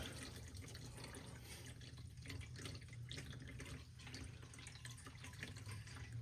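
Engine oil drains out of a 2019-or-newer Ram 1500 with the 5.7L engine into a big pan, a steady low trickling pour that runs continuously and faintly, with no talking.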